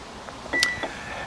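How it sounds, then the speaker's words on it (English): A Rippton CatchX bait boat remote gives a single short electronic beep, a clear close tone that lingers briefly, set against quiet room background with no talk. "There you go, it's just beeped."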